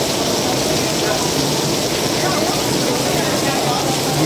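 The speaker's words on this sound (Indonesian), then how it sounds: "Hujan tidak reda tapi justru semakin lebat." Heavy rain pours down at an outdoor junior bicycle race at Mandala Krida, Yogyakarta, making a steady, dense hiss that fills the whole clip with no break.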